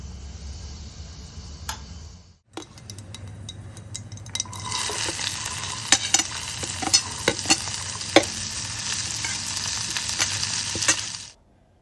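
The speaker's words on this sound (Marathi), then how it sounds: "सो या भाज्या आपण परतून घेणार आहोत." Vegetables for veg cutlets sizzle in hot oil with tempering, a loud continuous frying hiss broken by clicks of a spoon stirring against the pan, with no talking.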